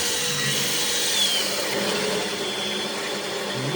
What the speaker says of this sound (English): You have to apply a decent amount of force as you're drilling.